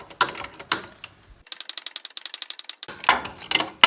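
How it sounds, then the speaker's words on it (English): Ratchet clicking rapidly as bolts are backed out of a Chinese quad bike's back axle with worn-out bearings, close and loud, in short bursts of dense rattling clicks separated by brief pauses, no talking. "Now I just got to take those bolts all the way out"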